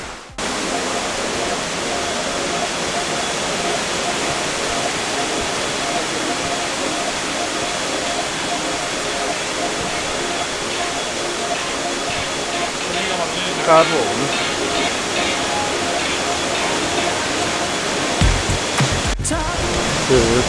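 Waterfall at a nature resort on a mountain near Chiang Mai, a constant broadband rushing roar of falling water, steady and fairly close throughout with a few brief handling knocks near the end.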